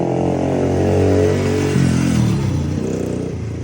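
A Honda 70 mini bike's small engine roars close by and then past, a loud buzzing drone whose pitch drops as it goes by, with no talk.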